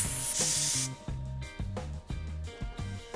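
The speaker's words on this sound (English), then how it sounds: "Grab your tire pump and attach the nozzle." An air pump inflates an electric dirt bike tire to 36 psi with one sharp burst of airy hiss lasting under a second, followed by steady background music.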